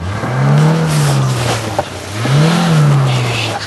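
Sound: car engine revving

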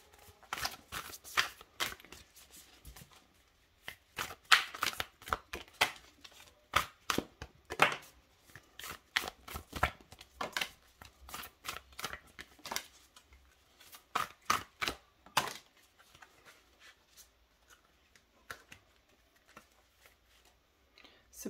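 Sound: shuffling a deck of astrology cards

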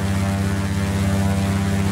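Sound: twin-engine propeller airplane engines in flight simulator

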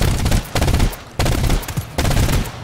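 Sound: shotgun gunfire in video game GTFO

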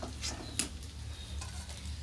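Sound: fish being stirred and fried in a pan

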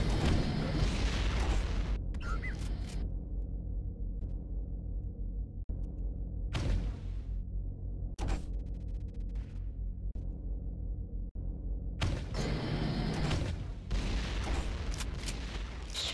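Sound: grenade launcher explosions in a video game

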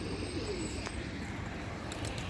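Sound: homing pigeons arriving and cooing

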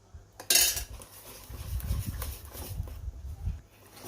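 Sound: stirring Thai fish curry (ho mok) mixture in a pot

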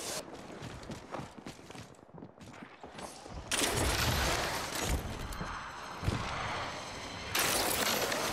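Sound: gunfire in a video game

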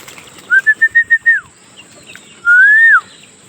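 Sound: Karna Pura pigeons flapping wings in flight

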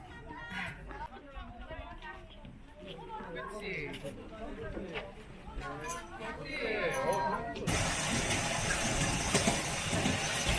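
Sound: small kiddie train running at science museum

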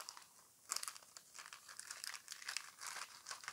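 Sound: tearing open sealed plastic foil wrapping of card packs

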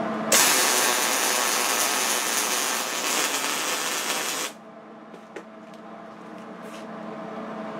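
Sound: electric welder running a weld bead

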